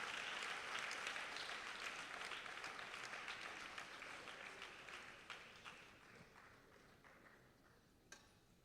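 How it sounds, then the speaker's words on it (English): Applause from an audience at an inaugural lamp-lighting ceremony at an Indian classical music festival, steady clapping that gradually thins and fades out, ending with a single faint tap. "Please give one round of applause for that noble gesture."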